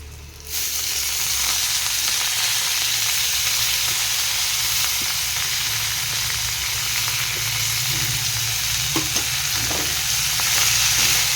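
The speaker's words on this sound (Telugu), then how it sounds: "ఇప్పుడు మనము ఈ చక్రాంతం కూర వేసేసుకుందాం" Chakrantham greens fry in a hot pan with a loud, steady sizzle that starts after half a second and runs continuously, with a few faint clicks and no talking.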